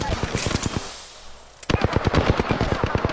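Sustained automatic gunfire in the Apex Legends video game, a dense, loud burst of shots that pauses briefly around the middle and then resumes just as rapidly.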